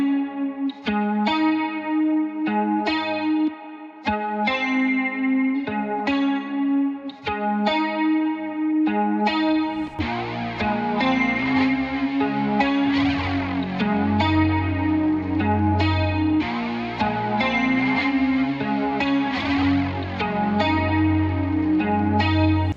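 Synth melody run through heavy compression and a Juno chorus effect, with dense sustained chords and a steady pulsing rhythm; a deep bass layer enters partway through and thickens the loud, continuous mix with no voices.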